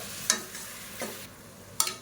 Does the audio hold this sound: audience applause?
no